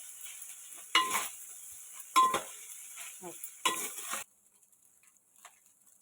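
Prawn fried rice with soy sauce is tossed in a sizzling pan, with three distinct scraping stirs at a steady rhythm, each followed by a short sizzle, before the sound drops to near silence.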